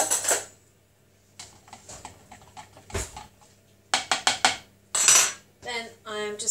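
Spoon stirring quinoa in boiling water in a pot, giving scattered metallic scrapes and clinks in short irregular bursts, close and fairly loud with quiet gaps between.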